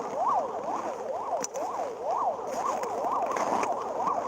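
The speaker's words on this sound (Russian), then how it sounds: "Опять он там, скорая помощь едет." An ambulance siren wails on a frozen city street in Yakutsk at about minus thirty, its rising and falling sweep repeating steadily and loudly over the hum of traffic, with no talk.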